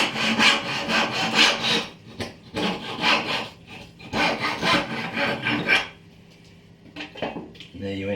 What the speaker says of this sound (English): Check that you're cutting it square both sides.